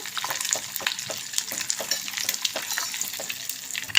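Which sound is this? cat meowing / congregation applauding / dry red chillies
dry red chillies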